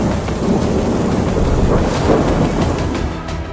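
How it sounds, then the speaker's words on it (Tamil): Heavy rain pours down with rumbling thunder, a dense, loud continuous wash of rainfall with low rolling thunder underneath, no voices. "அதற்கு மிகச் சிறந்த உதாரணம் திங்கட்கிழமை கொட்டி தீர்த்து வரும் மழை"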